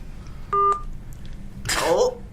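DTMF dialing tones on a radio station's call-in phone line, a short double-tone keypress followed by a brief burst of line noise, with voices in the background.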